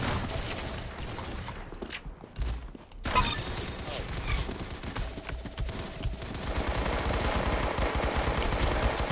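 Weapon fire in the shooter game Arsenal comes as dense, rapid bursts of automatic gunfire that run almost without a break, loud and close, with gameplay noise underneath.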